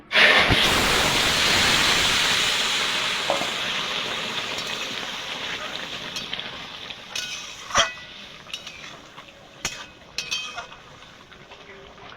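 Curry poured into a hot pan of fried radhuni spice, an opening burst of loud hissing sizzle that settles into steady frying with scattered pops and clatters close by.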